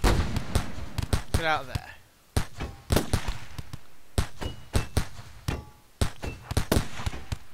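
Rapid gunfire from a RimWorld colony battle, sharp cracks firing in irregular bursts across several seconds while a man calls out over them.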